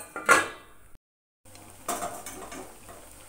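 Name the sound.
lid being placed on a cooking pot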